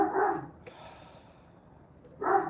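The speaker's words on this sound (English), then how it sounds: "My dogs are barking for some odd reason." A single dog barks indoors from an office nearby, two short barks with a quiet pause between them and no talking.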